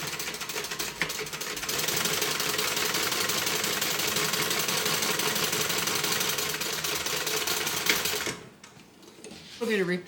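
A sewing machine top stitches the bottom panel of a water bottle tote bag, giving a steady, loud, fast mechanical whir that runs for about eight seconds and then stops, followed by brief handling noise.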